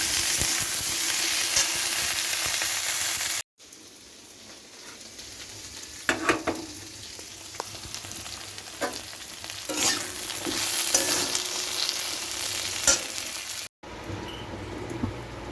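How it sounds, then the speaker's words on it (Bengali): Okra fries in oil in a wok, a quiet, steady sizzle broken by a few scraping stirs, with no talking. "তেল দিয়ে ঢ্যাঁড়সগুলো প্রথমে ভেজে নিচ্ছি আমি"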